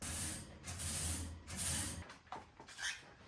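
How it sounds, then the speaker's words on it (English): Three bursts of hissing spray from a spray bottle of cleaner onto a pet cage, close by, each lasting about half a second, followed by a few light handling noises. "So I'm just gonna spray that, really dissolve that poop"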